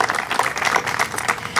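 An audience at a music center's groundbreaking ceremony breaks into steady applause, a dense wash of many hands clapping at moderate loudness throughout.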